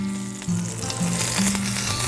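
Meatballs sizzle steadily in a hot frying pan for a Sunday sauce, a continuous close crackling hiss with a low hum underneath and no talking.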